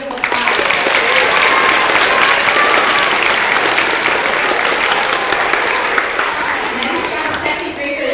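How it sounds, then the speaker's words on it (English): A crowd at a library event applauds a group of second graders, loud sustained clapping with cheers mixed in, filling the room steadily for several seconds and tapering near the end. "Let's give them a round of applause"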